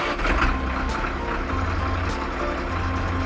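A toy dumper truck drives along in an animated scene of an excavator and tipper clearing rocks, giving a continuous, loud engine rumble with a steady hum throughout.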